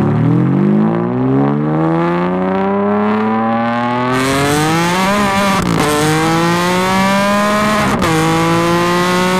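A Ferrari 599 V12 on straight-pipe exhaust revs hard, its loud, close howl climbing steeply in pitch, then holding high with brief dips between repeated rises.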